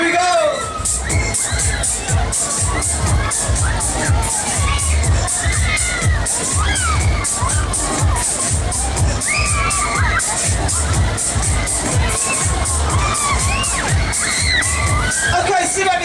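Loud, continuous screaming and cheering from a crowd of children on a Terminator Matterhorn fairground ride at Great Yarmouth, sustained over rumbling ride machinery and music for the whole stretch.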